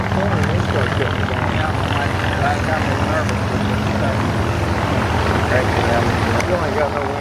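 A 50cc Revolver radio-controlled model helicopter flies its maiden flight outdoors, its engine and rotors making a loud, steady, continuous drone throughout. Voices talk over it.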